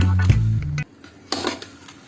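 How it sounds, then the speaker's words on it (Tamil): A spoon scrapes and clinks against a pan while tamarind-soaked poha upma is stirred and spread out, two short close bursts of clatter separated by a quiet pause, with a low hum at the start. "இதே மாதிரி கலரி கொடுத்து இந்த மாதிரி சமமாக பரப்பி வைக்கணும்"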